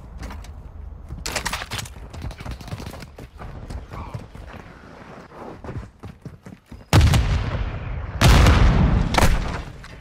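Gunfire in Call of Duty Modern Warfare 2 follows a stretch of rapid clattering footsteps, with two loud, close bursts of shots near the end.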